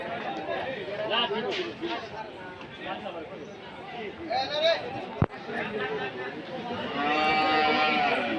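Cattle of several breeds, including Sahiwal, lowing and mooing amid crowd chatter at a busy livestock market, with a long drawn-out moo standing out near the end.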